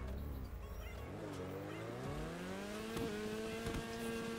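Racing car engine in Forza with its exhaust crackling and popping from the silencer, a revving drone that rises in pitch while sharp pops and crackles burst out intermittently, loud and close throughout.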